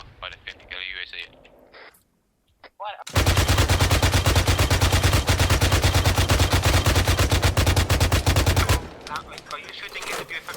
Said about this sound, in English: Are you shooting into your 50 cal from that machine gun of yours?